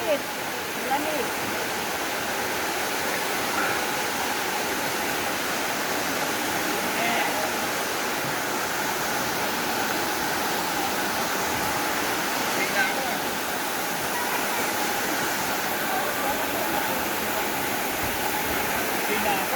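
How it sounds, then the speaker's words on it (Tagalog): A waterfall at Caunayan Falls pours steadily, a dense broadband wash of falling water that stays loud and constant for the whole stretch, with faint voices now and then underneath. "Yun ang tulo ng tubig, napaka-kristal ng tubig."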